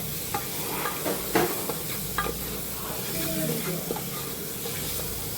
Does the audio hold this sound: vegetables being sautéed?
yes